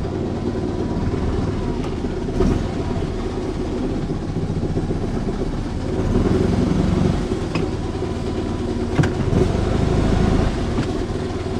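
A Fiat 126P engine runs steadily just after a choke start, a close, rough, continuous rumble that holds a constant idle throughout without talk over it.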